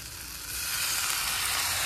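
Masala for a katla fish curry with taro fries in a pan, giving a steady close sizzle that grows slightly louder after a moment, with no talking.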